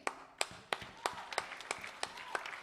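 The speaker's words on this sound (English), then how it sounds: "Give him a round of Welcome, applause" A small audience welcomes a performer onto the stage at a skiffle show, claps sharp and distinct in a loose, uneven rhythm, quiet and close, with no voices over it.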